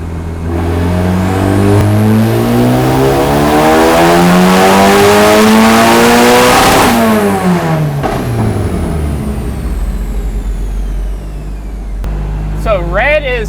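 A turbocharged K24-swapped Miata engine sweeps up through a loud, sustained rev on a dyno pull, its harmonics climbing steadily before peaking and dropping back, with a brief voice at the end.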